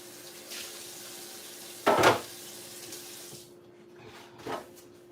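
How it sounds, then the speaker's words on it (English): Running tap water splashing as a pan is rinsed in a kitchen sink, a brief louder gush midway and a smaller splash later, faint and close with a steady background hum. "I'm going to take, I guess, this pan here and just rinse it and use it."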